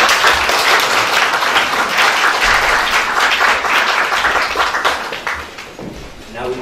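An audience at a live literary evening applauds warmly, with sustained, dense clapping that thins slightly toward the end as a voice begins to speak.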